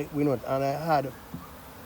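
Close, wavering buzz of bees at a hive, several short rising and falling drones in quick succession.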